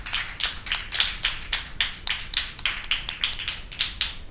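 Schoolgirls at a Christmas Bible quiz in a cathedral girls' high school applaud two quiz teams. The clapping is brisk and evenly paced, close and fairly loud, with no talk over it.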